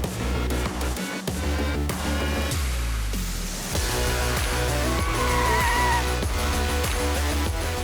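A Honda Civic and a Toyota Innova launch side by side in a drag race, engines revving loudly and steadily, with tyre noise rising. The roar stays close and continuous throughout.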